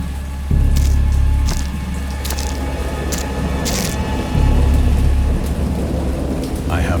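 Thunderstorm effect under an audiobook reading of a horror tale: steady rain hiss with two deep rolling thunder rumbles, one near the start and one midway, continuous and fairly loud throughout.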